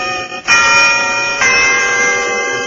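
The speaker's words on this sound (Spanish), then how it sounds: "daba las 12 campanadas" An old cathedral clock bell striking twelve: a ringing tone with a long sustained hum, struck again about a second later, the resonance lingering and slowly fading.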